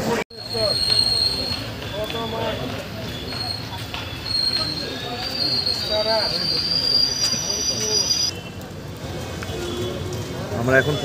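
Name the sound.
Uttarbanga Express train running on rails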